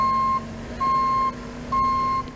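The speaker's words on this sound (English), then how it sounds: "as well as an audible backup alarm." A vehicle backup alarm beeps three times at an even pace, steady and fairly loud over a low engine rumble.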